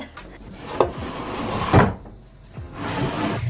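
A storage drawer in an artist's studio slides open and shut, giving a few close, sharp wooden thumps and rolling scrapes in quick succession, with no talking.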